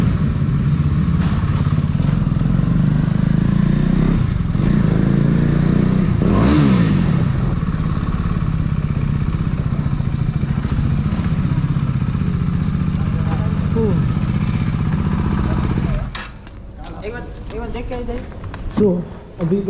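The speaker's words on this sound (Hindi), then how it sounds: "बाइक को थोड़ा कोल्ड स्टार्ट जैसा करना पड़ेगा" A motorcycle engine runs after a cold start on a cold evening, idling with a steady low rumble and light clatter for most of the clip before dropping off near the end, where faint noises follow.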